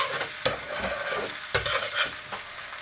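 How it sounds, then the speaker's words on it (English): Garlic cooks in butter for tarka dhal, giving a close, steady sizzle with repeated scraping strokes of a utensil stirring the pan, and no talk. "we just want to cook this for a few minutes just to get rid of the rawness, and the garlic turns slightly brown"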